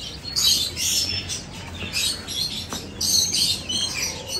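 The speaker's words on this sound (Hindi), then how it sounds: "ये दो अस्टील चूजे हैं," Two Aseel chicken chicks chirp in high, thin peeps, repeated in short clustered bursts close by with a steady background hiss.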